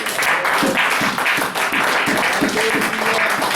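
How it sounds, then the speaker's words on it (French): Applause at a church service: a congregation claps loudly and continuously for a few seconds, dense and close, with a voice faintly heard over it. "Acclamation pour l'esprit."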